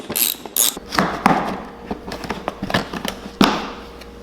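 Ratcheting clicks and metallic taps come from 10mm bolts being removed from the side number panel of a 2021 Yamaha YZ125 dirt bike, with irregular bursts close by and a few sharper knocks.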